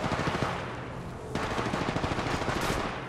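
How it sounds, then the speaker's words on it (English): Automatic weapons fire hammers away in an Apex Legends Mobile match, loud and close, in dense continuous bursts that break briefly before resuming. "Shots fired at me."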